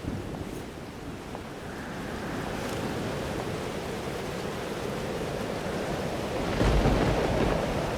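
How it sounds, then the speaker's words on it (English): A storm rages in the Life is Strange Double Exposure video game, with steady roaring wind and rain building to a heavier surge near the end like distant thunder. "Weather's worse than I remember it. Storm followed me."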